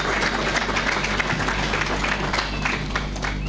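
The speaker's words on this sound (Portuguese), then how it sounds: "mas se não encontram, mas a salva de palmas pode ser." An audience at a political rally for a presidential candidate in Mozambique breaks into sustained applause, a dense wash of clapping that continues steadily throughout.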